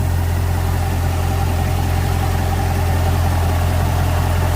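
A Volvo Penta boat engine idles steadily and loud, a constant low drone with strong harmonic hum running unbroken throughout and no talking.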